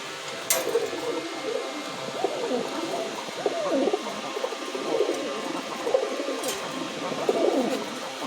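Several desi pigeons coo steadily and close by in a home loft, their overlapping rolling calls continuing throughout with a couple of brief sharp clicks.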